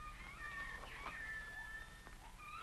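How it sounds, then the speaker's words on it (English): A baby lion cub in a 1949 African adventure comedy film gives a faint, thin mewing cry, rising and wavering over a steady background hiss. "That's just a little baby lion."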